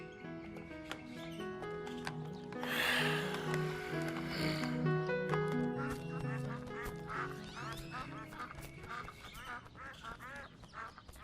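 Several ducks quack on the water, a busy overlapping series of nasal calls with goose-like honks, loudest in a cluster near the middle and continuing more scattered afterward.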